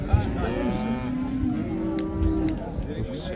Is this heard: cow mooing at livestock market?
yes